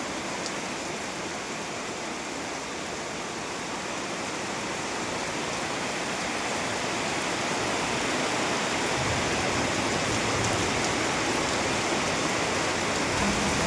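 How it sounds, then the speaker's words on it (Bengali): Heavy rain pours down steadily over Nandigram town in a dense, continuous roar that grows slightly louder over time, with no voices. "পুরো এলাকা জুড়েই বৃষ্টি হচ্ছে প্রচুর বৃষ্টি হচ্ছে"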